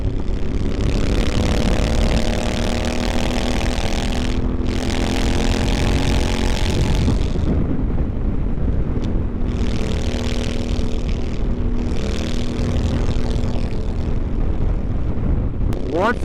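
A Honda Africa Twin motorcycle with an Akrapovic racing exhaust roars loudly and steadily while riding, its engine note rising and falling through gear changes under wind noise.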